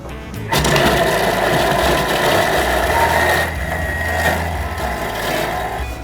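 High-power blender nicknamed the tank, blending olive oil, starts abruptly and runs as a loud, close, steady motor roar and whir that shifts slightly in pitch partway through.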